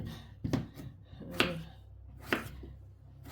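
A knife slicing potatoes on a cutting board, three distinct sharp chops spaced about a second apart, close and quiet with no talk.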